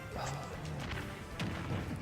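An Unira item in Super Smash Bros. Ultimate is smashed, giving game crash and whack effects with a few thumps. A busy background of other game sounds runs underneath.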